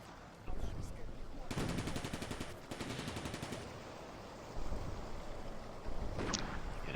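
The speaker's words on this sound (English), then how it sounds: "that anti-tank gun is firing away there" Bursts of gunfire from an anti-tank gun and nearby weapons in the Combat Mission: Barbarossa to Berlin war game, Stalingrad suburbs: loud broadband blasts and a dense rattling stretch, with battle noise throughout.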